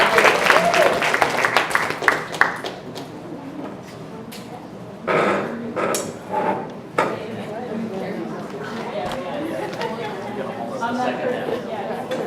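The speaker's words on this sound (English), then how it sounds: "Give yourself a round of applause" Audience at a poetry and spoken word concert breaking into applause, a burst of clapping at the start that fades, then scattered claps and crowd chatter, with people talking over it.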